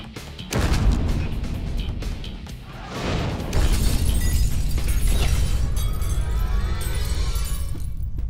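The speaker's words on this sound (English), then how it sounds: "the flintlock flies forward, it ignites what's in the pan" A flintlock blunderbuss, a black powder gun, fires with a loud booming blast and a sharp crackling burst, followed by a rumbling, sustained roar that lingers to the end.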